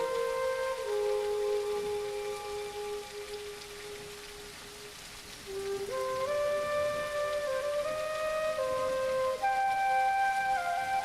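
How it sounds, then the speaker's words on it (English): Gentle rain in the video game Stone Simulator patters steadily in the background while clear, sustained melodic tones ring out and shift pitch above it, the loudness dipping briefly mid-way before returning. "Fresh rain smells amazing."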